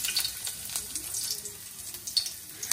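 Ingredients sizzling in a hot pan while cooking the Filipino dish Bicol Express, a steady crackling fry with small bursts of spatter, close and continuous.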